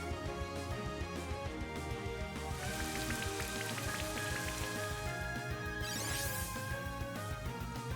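Rain pattering steadily in Pokemon Shining Pearl during a battle, a soft continuous wash mixed under busy game music throughout.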